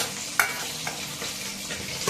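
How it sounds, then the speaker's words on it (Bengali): Close sizzling of fish frying in a pan, with a sharp clink of a utensil near the start and light scraping as it's stirred. "মাছগুলো ভেজে নিচ্ছি"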